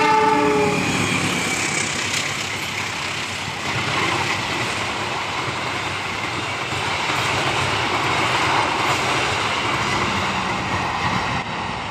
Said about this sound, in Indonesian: Sudah berjalan langsung dari barat menuju Stasiun Surabaya Gubeng kereta api Sancaka.